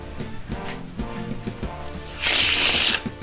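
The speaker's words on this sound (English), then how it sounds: "I'll give them a shuffling." A deck of playing cards is shuffled, with soft handling rustles leading into a loud, dense riffle burst near the end of the clip, close up and without talk.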